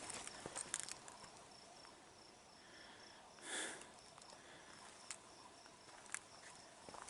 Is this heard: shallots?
no